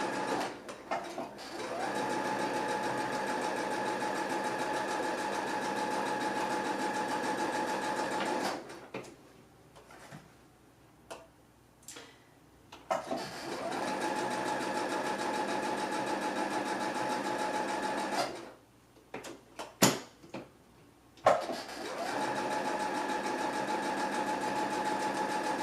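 A sewing machine runs steadily while stitching quarter-inch seams on a handkerchief table runner, whirring in long continuous runs broken by two pauses filled with small handling clicks.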